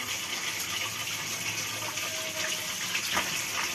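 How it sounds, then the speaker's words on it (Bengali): Running water gushes steadily from a tap as small fry fish are rinsed, a continuous close splashing flow with no talk. "এই যে এখানে পোনা মাছ, এগুলো ধুচ্ছি।"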